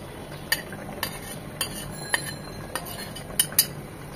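Fried hilsa fish pieces and fish head go into a simmering bottle gourd curry, marked by a run of distinct metal clinks of a utensil on the pot over a faint steady background.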